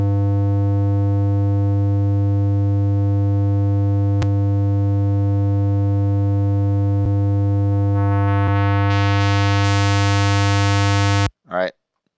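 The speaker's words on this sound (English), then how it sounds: "I'm using test tones." Steady electronic test tones used for audio equalizer adjustment, a loud continuous buzzy pulse with many even harmonics, broken by a few brief clicks, growing brighter and hissier toward the end before cutting off abruptly.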